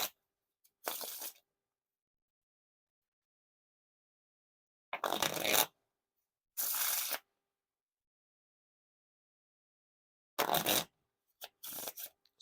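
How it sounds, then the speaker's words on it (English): Several short riffle shuffles of Orbit Chroma Key edition playing cards, each a quick crisp burst of fluttering card edges, separated by stretches of silence and heard up close with nobody talking. "Now for a riffle shuffle or bridge shuffle."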